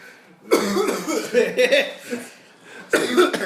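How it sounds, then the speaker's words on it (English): A person coughs hard several times in close succession, harsh rasping bursts up close, with a short pause before another fit of coughing. "That was a lot of coughing"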